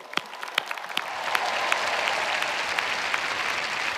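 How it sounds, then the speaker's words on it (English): Audience applause for the fathers at the 2019 Stanford commencement ceremony, a broad, sustained wash of clapping from a large outdoor crowd, starting with a few distinct claps and swelling into a steady roar. "let's give the dads in particular a round of applause"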